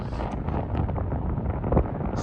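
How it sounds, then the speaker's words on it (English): Strong wind buffets the microphone on an exposed coastal path near Rossall Point, a steady loud roaring rumble with gusts swelling throughout and no speech. "very windy"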